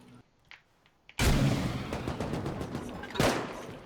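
Gunfire in the survival video game Rust: a sudden loud burst of rapid shots that continues as dense sustained firing, with another sharp cluster of shots near the end.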